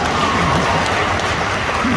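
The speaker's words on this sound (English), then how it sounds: "Please clap." Audience applause during a fan expo question-and-answer session with cast members of The Office in Boston, a dense, steady wash of many hands clapping throughout, loud and continuous with some crowd noise mixed in.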